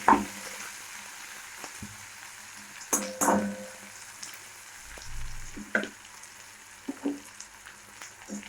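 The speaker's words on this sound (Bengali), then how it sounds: "কপিগুলো আমরা ভালোই লাল লাল করে ভাজবো" Cauliflower florets with salt and turmeric fry in a pan, a soft steady sizzle broken by scattered scraping and stirring clatters.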